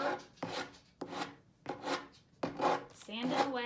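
Sandpaper rubs away chalk paint in linen white on an antique wooden furniture piece, in separate rasping strokes about every half second, close up and fairly quiet.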